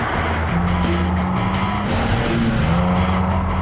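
A car engine roars steadily while driving, a continuous loud drone with shifting tonal pitches and a faint hint of tire noise, no voices over it.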